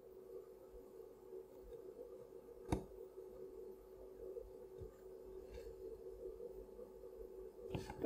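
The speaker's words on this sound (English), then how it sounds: "There's a sine wave here." Amiga 600 audio output playing a sine wave, heard as a faint steady pure tone that holds level throughout against a quiet background, broken by a couple of sharp clicks.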